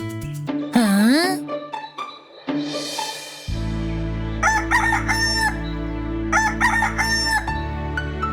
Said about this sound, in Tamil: அடுத்த நாள் காலையில சேவல் கூவுற சத்தத்தை கேட்டு கஸ்லி முழிச்சுக்கிட்டான்